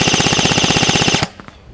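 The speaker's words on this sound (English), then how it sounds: "Now let's check out the full auto rate of fire." A stock AEG gel blaster rifle fires on full auto, giving a rapid, even burst of about a second of mechanical clatter at around 16 shots per second. The burst then cuts off, followed by a couple of faint clicks.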